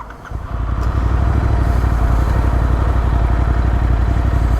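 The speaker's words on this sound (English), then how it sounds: "It idles well. Usually with a cam swap, most bikes they don't idle well." A Royal Enfield Interceptor 650 twin fitted with an S&S camshaft fires up and settles into a loud, steady, close idle with an even thumping rhythm.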